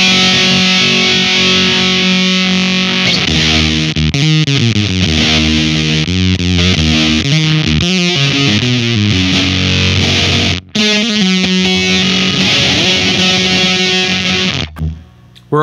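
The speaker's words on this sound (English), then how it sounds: "if we want to get the starved fuzz type of sound, we can turn that bias pot down, which starts to give us that kind of like sputtery sound" Electric guitar through a Whimsy Machines Short Stack fuzz pedal with the bias turned down, giving a starved, sputtery, gated fuzz on sustained chords and bends, loud and continuous with no talking.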